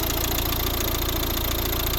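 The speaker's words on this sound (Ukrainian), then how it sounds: "Ось робота двигуна." A 2012 Volvo V60 with a 1.6 HDi diesel engine idles close by, a steady, even mechanical drone with a faint rhythmic clatter, alone and unchanging throughout.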